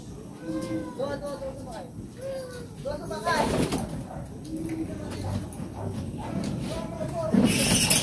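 Racing pigeons coo in soft, repeated throaty phrases nearby during a derby race in Sudipen, La Union, while a person talks over them and shuffling noises rise toward the end.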